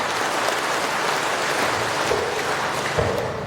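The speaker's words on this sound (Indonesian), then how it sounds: "Tepuk tangan untuk kita semua." Audience applause at a technical guidance session, a steady, even roar of many hands clapping at once, sustained without breaks and resembling rainfall, with no talking over it.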